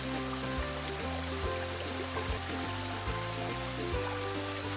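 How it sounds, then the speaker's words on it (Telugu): Urad dal being rinsed and washed in water for jalebi batter, a steady close watery swish and trickle running throughout with no talking. "ముందుగా మినపప్పు శుభ్రంగా కడుక్కోవాలి."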